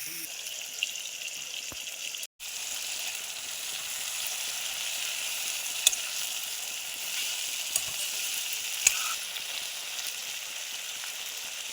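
Marinated chicken stir-fried in a pan for a local chicken curry, a steady moderate sizzle with occasional faint knocks of a utensil and one brief dropout.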